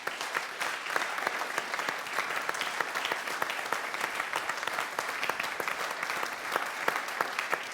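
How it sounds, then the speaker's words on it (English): An audience and debate candidates at a 2019 election debate in Lincoln applaud, a steady dense clapping that stays even and sustained throughout, with no talk over it. "give yourselves a round of applause."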